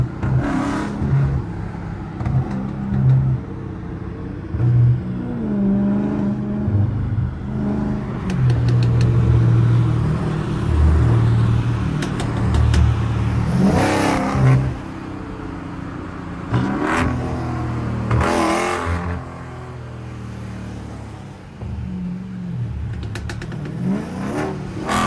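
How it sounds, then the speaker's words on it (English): Straight-piped, catless Dodge Charger Scat Pack with an added intake revving hard and downshifting through city streets, a loud, close, throaty engine note that rises and falls in repeated surges with sharp blips between them. "I love them downshifts."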